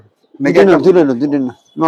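A male racing pigeon coos in a short, close, clear burst lasting about a second, followed by the start of another coo.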